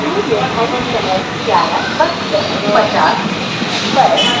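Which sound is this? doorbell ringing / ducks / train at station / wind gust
train at station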